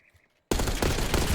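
Sustained automatic gunfire from a gunfight in the shooter game Black Ops 6 bursts in loud and dense after half a second of near silence, continuing without pause to the end.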